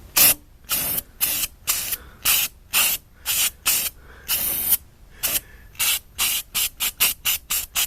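Spray can of rusty metal primer applied to a Suzuki Samurai gas tank in a rapid run of about twenty short hissing bursts with brief gaps, close and loud, the later bursts quicker.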